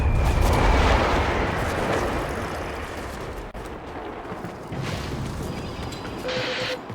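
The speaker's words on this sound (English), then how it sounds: "That was the old Macross cannon" The Macross cannon in Warframe fires a heavy, booming blast that rolls into a long, fading rumble, followed by lower thuds and background game noise.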